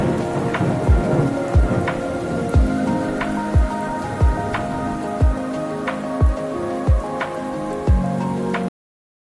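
Heavy rain pours steadily through a violent thunderstorm while sharp thunder cracks strike at a regular rhythm, roughly one every second, loud and close over the constant downpour.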